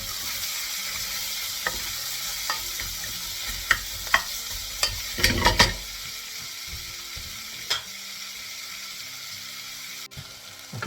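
Thinly sliced white onion cooks down in a pan for pea and pancetta soup, giving a steady soft sizzle with scattered scraping and clinking stirs, a cluster of louder knocks near the middle.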